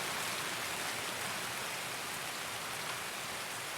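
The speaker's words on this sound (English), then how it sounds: "Now the rain is really brutal." Heavy, steady rain in the game Escape from Tarkov, a dense unbroken hiss of downpour at even volume throughout with no voices.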